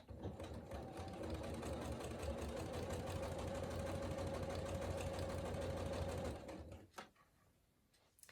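Sewing machine stitching a fabric bag handle strap, a close, steady rapid whirring run lasting about six seconds before stopping, followed by a couple of faint clicks and quiet handling.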